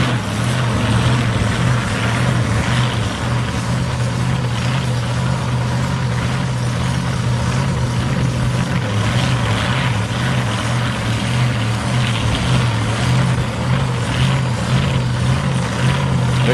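Drag cars, one of them with a 308 Chevrolet engine, roar down South Coast Raceway during 660 qualifying, making a constant, loud, droning engine noise with no talking.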